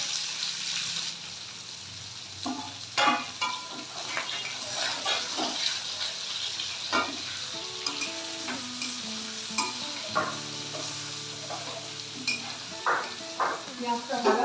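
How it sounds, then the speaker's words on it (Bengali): Onions frying in oil in a pan with bay leaves, for a chicken kosha, sizzling steadily near the mic with frequent scraping stir strokes and some clinks, while voices talk intermittently over it. "পেঁয়াজটা ভাজা হবে"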